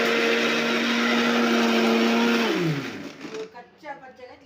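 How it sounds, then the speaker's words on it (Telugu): A mixer grinder whirs loudly with a steady motor drone while grinding cumin, tamarind and salt for chutney, then winds down and stops near the end, leaving faint handling noises. "ఇవన్నీ ఇందులో వేసి ఇగో మిక్సీ పట్టుకోవాలండి."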